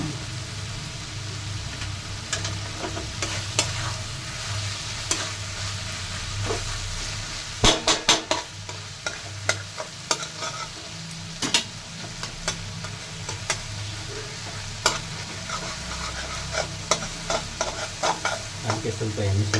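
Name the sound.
chicken masala gravy frying and stirring in pan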